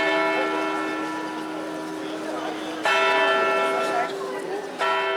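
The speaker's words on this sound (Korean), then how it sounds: "정시가 되자 시간의 신과 곰의 지시에 따라 종이 울린다." A clock tower bell in Switzerland strikes the hour, ringing with a clear sustained tone, then struck again twice more so that each new stroke sounds over the fading ring of the last.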